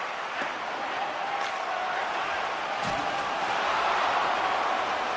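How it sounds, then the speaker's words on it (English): A hockey crowd in a video game roars and cheers in a big arena, a steady wash of noise that swells slightly toward the end, with a few faint thuds and a commentator's voice underneath. "the crowd's on their feet, saluting the team after a hard-fought effort this evening"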